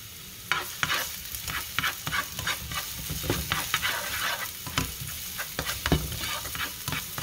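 Minced garlic sizzles in hot olive oil while a utensil stirs it through the pan, producing a steady crackling fry with frequent scraping knocks and clicks.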